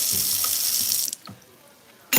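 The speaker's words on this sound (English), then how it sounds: "I'm just gonna pour off some of this water from my corn because I don't want my broccoli to boil" Water from a pan of boiled corn pours into a colander in a kitchen sink, a splashing, hissing gush for about a second before it trickles off and ends in a short final splash.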